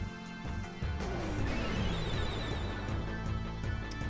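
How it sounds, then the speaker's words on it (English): A sleeping potion effect from the game Final Fantasy IX: a steady, dense hissing spray much like a shaken soda can fizzing open, starting abruptly after a short low rumble and sustaining loudly for several seconds. "That's the sound of can, you know, like can of soda spraying."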